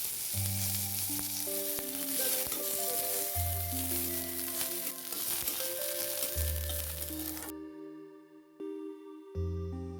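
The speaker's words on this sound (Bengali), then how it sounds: "কিছুক্ষণ ফোড়নটা ভাজা হয়ে গেলে ওর মধ্যে দিয়ে দিল কারি পাতা" Black mustard seeds, white cumin and curry leaves crackle and sizzle loudly in hot oil, a dense steady hiss under background music that cuts out near the end.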